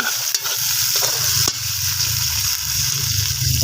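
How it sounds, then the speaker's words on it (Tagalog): Malunggay and mushroom soup ingredients sauté in a cooking pot, a dense close sizzle with rapid stirring scrapes and a couple of sharp utensil taps, no voices. "ginagisan ako"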